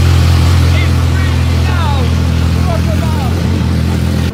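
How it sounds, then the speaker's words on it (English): A Ferrari F430 engine running with no exhaust idles loudly with a heavy low drone, very close and raw, while a few squeaky high chirps come and go over it. "the Ferrari starts up and runs the first time"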